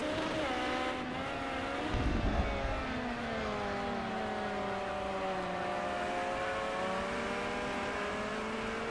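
Ferrari 355 Challenge race car engine at Imola, a steady sustained drone with rising and falling pitch as the car accelerates, loud and continuous, with a brief rougher burst near the start.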